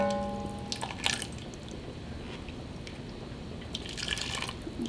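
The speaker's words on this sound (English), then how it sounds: "We're going to slowly add it into our sauce." Salted pasta water is poured slowly into a vodka sauce in a kitchen, giving a soft, steady liquid trickle with faint drips and splashes above a constant hiss of background noise.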